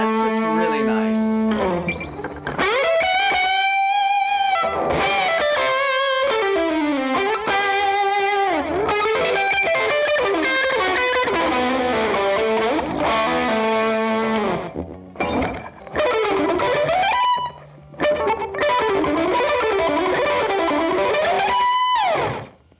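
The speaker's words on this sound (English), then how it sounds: "with that kind of lick that I just played, I usually need a lot more distortion" Overdriven electric guitar through a Zendrive overdrive pedal into a Foppstar Lil' Rae amp, playing loud, busy melodic licks with bends and sustained notes, briefly pausing near the end.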